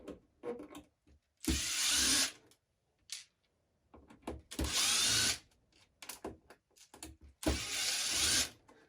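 A power drill whirs in three loud bursts of about a second each, separated by quieter clicks and handling noises.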